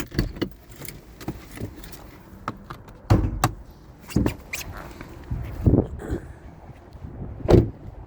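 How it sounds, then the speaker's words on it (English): Someone opens the hood of a 2024 Toyota Prius, producing a series of close mechanical clunks and thumps from the latch and hood, separated by short quiet gaps. "Let's pop the hood in the engine bay."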